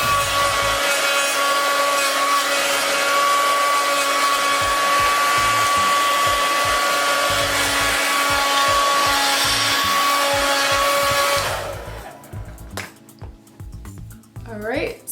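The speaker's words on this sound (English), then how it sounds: "I will put the blast on like high" A hair dryer set to high heat roars in a loud, steady blast for about eleven seconds, then cuts off and leaves quieter handling noises. Talk runs underneath the dryer.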